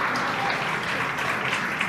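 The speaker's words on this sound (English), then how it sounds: "An eruption of applause here at SpaceX Mission Control." Steady, dense applause with cheering fills SpaceX Mission Control after a booster's first successful landing, loud and continuous throughout.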